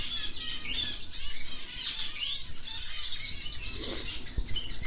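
Many small birds chirp and twitter continuously over a steady background hiss, a busy chorus of canaries close by.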